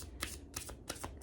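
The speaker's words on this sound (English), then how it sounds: "I wanted to shuffle them pretty good because I feel like some of them are repeating" Tarot cards shuffled by hand in three or four quick riffling bursts, each a crisp papery flutter separated by brief pauses, close and clear with no talking.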